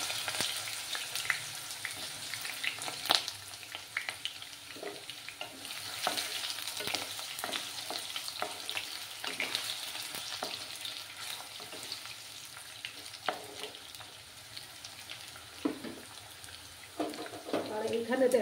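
Potatoes frying in hot oil for a mixed vegetable curry, a steady close sizzle broken by scraping and clattering as they are stirred in the pan.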